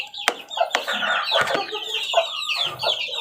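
Chicks clucking and peeping while eating a mix of banana and rice, a steady busy chatter of close, overlapping calls with short sharp bursts and no talking.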